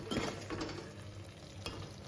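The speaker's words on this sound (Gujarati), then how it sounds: "તો જો કઢી વઘારી દીધી છે સરસ મસાલો પાકવા દઈશું" Tempered kadhi with spices cooking in a pan, a quiet, steady sizzle and bubble with a few soft stirring scrapes, close and low in level with no voices.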